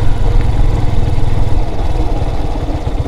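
A touring motorcycle idles close by with a steady, loud, chugging low rumble, parked at the Cristo de la Sierra lookout in Tandil, Argentina, with no voices over it.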